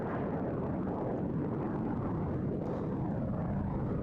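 A Polish LIM-6, a MiG-15 derivative jet, passing at an airshow, heard as a deep, broad roar that stays steady and fairly distant throughout.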